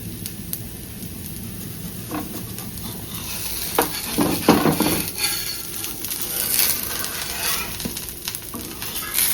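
An egg dosa omelette fries in plenty of oil on a hot pan, with a constant crackling sizzle and clustered scraping strokes of a spatula rising in the middle.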